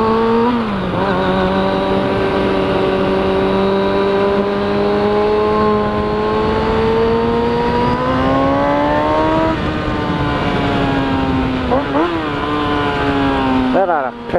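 A motorcycle engine drones loudly and close at high revs on a Saturday morning. The pitch climbs steadily through sustained acceleration, then dips and rises again with several gear changes.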